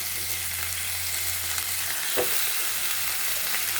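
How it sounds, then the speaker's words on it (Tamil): Chicken pieces frying in oil in a pan over medium-low heat, half a kilo of chicken for a fry. A steady close sizzle runs throughout, with a brief stirring knock partway through. "இந்த அளவுக்கு வதங்கியதும் நம்ம சிக்கன் பீஸை இதில் சேர்த்துக்கலாம்."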